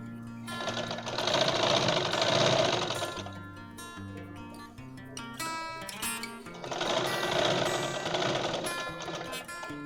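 A sewing machine stitches straight pants in two sustained runs of rapid, even whirring, with a quieter lull between them; no voices.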